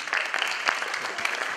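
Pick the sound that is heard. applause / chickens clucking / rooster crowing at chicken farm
applause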